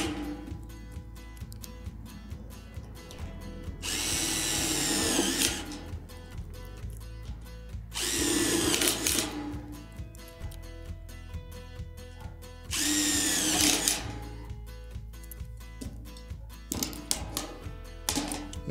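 A power drill with a nut driver spins screws through the pre-drilled holes of a Trex Elevations deck hanger in three loud, sustained whirring bursts, with ringing metallic clatter and handling noise between them.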